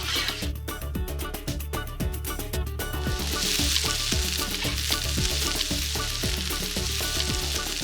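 Paella sofrito sizzles and fries loudly in a wide pan over a wood fire, a close, continuous crackling hiss with stirring scrapes.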